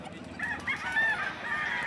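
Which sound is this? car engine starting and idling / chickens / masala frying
chickens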